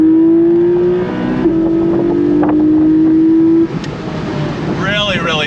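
Porsche Boxster GTS engine pulling hard on throttle, a loud steady rising drone close by with a brief shift break, ending in a crackling burble as the revs drop.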